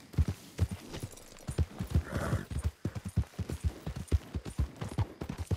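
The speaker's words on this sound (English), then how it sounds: "Giddy up." A horse trots in Red Dead Redemption 2, its hooves striking in a steady, close clip-clop rhythm throughout, with a brief softer whinny-like sound near the middle.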